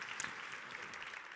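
A conference audience applauds after a keynote speech on smart cities in Barcelona, a steady, moderately quiet wash of clapping that continues evenly through the brief moment.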